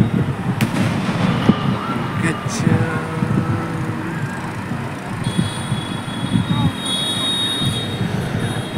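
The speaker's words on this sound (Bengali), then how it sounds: "এবার আতশবাজি পরপর" Fireworks burst one after another at a Holika Dahan bonfire festival, heard from a distance as sharp cracks and crackling pops over a dense crowd murmur, with people talking nearby.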